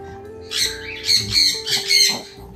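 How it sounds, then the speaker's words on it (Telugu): Birds in a breeding room at an aquarium shop squawk and call close by, several harsh, overlapping cries over a low background hum, with no talking. "బర్డ్స్ సౌండ్స్ అన్ని మీకు వినిపిస్తున్నాయి కదా."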